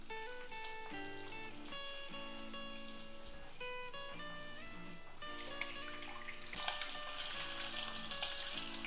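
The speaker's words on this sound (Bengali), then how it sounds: "এদিকে তেলটা গরম হয়ে গেছে, আমি ডিমগুলো ভেজে নেব।" Eggs fry in hot oil with a quiet, continuous sizzle that grows a little busier toward the end, heard beneath background music.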